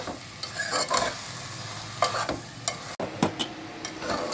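A spoon scrapes and stirs through vegetables and potatoes frying in a pan for vegetable pulao while a soft, steady sizzle continues underneath, with occasional clanks against the pan.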